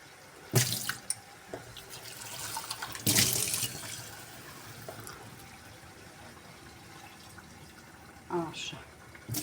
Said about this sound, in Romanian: Să mai pun puțină apă.